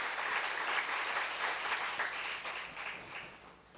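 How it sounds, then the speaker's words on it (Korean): A church congregation applauds during a sermon seminar, a bright, dense patter of many hands clapping that swells early and then gradually fades toward the end, with no speech. "박수 좀 세게 쳐요."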